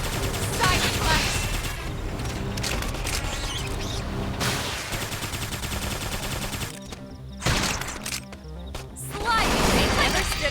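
Rapid bursts of gunfire in the Xenoblade Chronicles X video game, loud fusillades and crashing impacts layered over music and effects, with brief lulls before the firing resumes.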